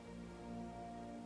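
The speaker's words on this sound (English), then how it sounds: "Looked over there and was like, whoa, that's a lot of rain" Steady heavy rainfall in Guild Wars 1, a quiet continuous wash of rain over a low humming drone, unbroken and without speech.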